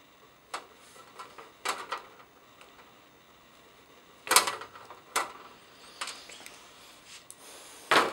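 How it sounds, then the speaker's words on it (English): Wires in a fluorescent light fixture are stripped while the ballast is replaced, with scattered sharp snips and clicks from the stripping tool, irregular and close, over quiet background. "The next thing I need to do is strip these wires so they can accept wire nuts."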